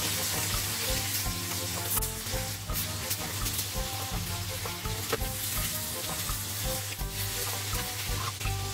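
Chicken pieces sizzle steadily as they brown to golden skin in a hot pan, with soft scraping as they are stirred and moved around.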